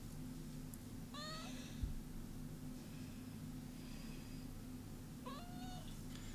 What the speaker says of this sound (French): Vous l'entendez miauler ou pas?